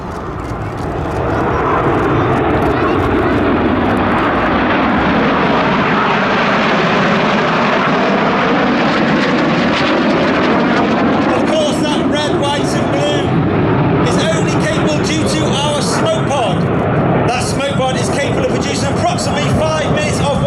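Red Arrows jet aircraft of the Royal Air Force flying a formation display at the Midlands Air Festival, a loud sustained engine roar with a shifting, doppler-like sweep as the jets pass, while a commentator talks over it.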